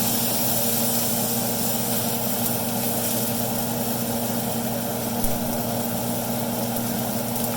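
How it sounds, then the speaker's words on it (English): A kitchen exhaust fan runs steadily with a constant low hum and airy whoosh throughout, loud and close, over a stove where steak is being seared. "Turn on the exhaust fan because this is going to get really smoky."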